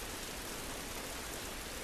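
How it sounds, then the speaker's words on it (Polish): Steady rain falls in the video game The Last of Us, a continuous, even hiss with no breaks, faint and uniform throughout. "Ten deszcz nam nie pomaga."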